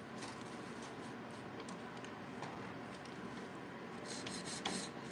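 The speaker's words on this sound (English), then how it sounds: "I just need to fine tune it with my hand file." A hand file rasps steadily against a coffin-shaped nail, with soft continuous rubbing strokes close by and a few faint ticks, no talking.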